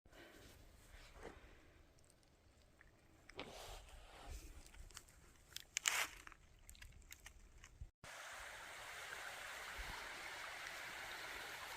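A small stream flows outdoors in the hills, faint and steady at first under scattered footsteps and handling noises, then becoming a louder, continuous rushing wash after a sudden cut.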